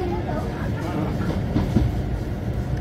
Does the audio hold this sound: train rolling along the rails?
yes